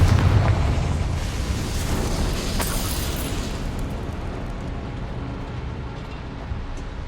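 The Confringo blasting spell in the Hogwarts Legacy video game goes off as a loud, booming explosion at the start, followed by a long rumbling roar that slowly fades.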